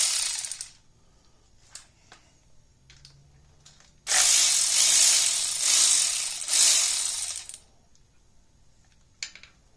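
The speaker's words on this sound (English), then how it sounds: "So we're going to take our electric ratchet. I'm going to take this 10mm bolt out that holds this top bolt in." An electric ratchet removes a 10mm bolt, giving a few brief clicks and whirs, then a loud, close buzzing ratchet run of about three seconds with a short pause in the middle, followed by quiet handling clicks.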